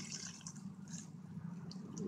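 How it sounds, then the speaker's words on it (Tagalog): Water runs and trickles steadily at low volume into a cooking pot, a soft continuous pour with faint splashing and occasional drips. "Lagyan na rin natin siya ng"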